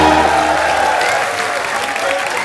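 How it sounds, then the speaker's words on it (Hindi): A studio audience on a Kapil Sharma comedy show gives loud, dense applause to welcome arriving guests. The clapping is sustained and close, with light crowd murmur beneath. "हम स्वागत करना चाहेंगे अपने मेहमानों का, जोरदार तालियां"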